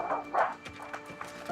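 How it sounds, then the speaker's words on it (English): A dog barks a few short times from inside a house after a knock at the door, quick yaps with some faint background voices. "The dog's awake."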